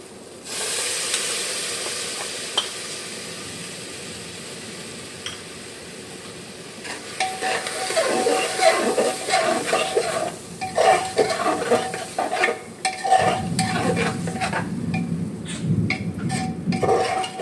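Vegetables fry with ginger-garlic paste for chicken soup in a home kitchen pan: a soft hiss at first, then louder sizzling broken by repeated scraping and stirring strokes of a spoon against the pan.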